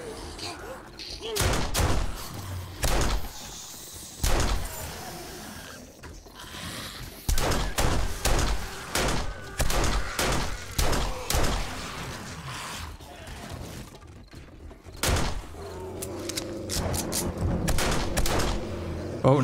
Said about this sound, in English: I'm just like blindly shooting up there.